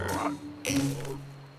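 Cartoon poison dart frogs croak in two short bursts, close and clear with a tonal, bubbly quality, with no other sound around them.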